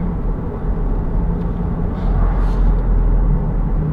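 A C8 Corvette fitted with a 2M fabrication exhaust cruises in touring mode, giving a steady, muffled low rumble with road and wind noise inside the cabin and no talking.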